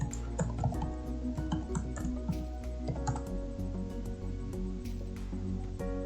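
Typing a MySQL command on a computer keyboard: a steady run of close, light key clicks over a constant low hum, with no talking.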